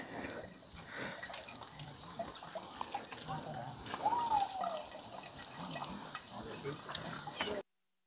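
Spring water at a hillside spring in Riverston, Sri Lanka, runs into bottles being filled, making a continuous close trickling and splashing flow that stops abruptly at the end.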